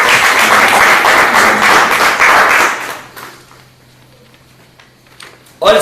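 A church congregation applauds together at a service, a loud burst of clapping lasting a couple of seconds before fading into near silence, with a sharp sound returning at the very end.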